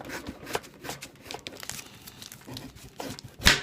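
A knife slices through a horseradish root on a cutting board, giving a run of crisp crunching and crackling cuts at close range, ending in one sharper, louder snap.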